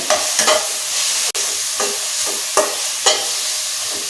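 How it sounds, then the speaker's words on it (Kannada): Palak pudina chicken ghee chops being stir-fried with coriander leaves in a pan, a steady loud sizzle broken by repeated scraping strokes of a spoon, close and with no voices. "ಇದಕ್ಕೆ ಲಾಸ್ಟಿಗೆ ಈ ಕೊತ್ತಂಬರಿ ಸೊಪ್ಪು ಸ್ವಲ್ಪ ಹಾಕ್ಬಿಟ್ಟು ಸ್ವಲ್ಪ ಫ್ರೈ ಮಾಡ್ಕೋಬೇಕು"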